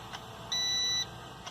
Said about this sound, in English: Get a beep